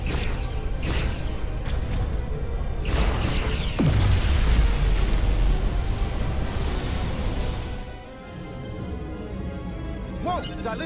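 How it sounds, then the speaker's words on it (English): A dilithium explosion in the video game Star Trek Resurgence erupts as a heavy boom and sweeping whoosh with deep rumble, fading into a softer hum while characters talk over it. "Dilithium explosion."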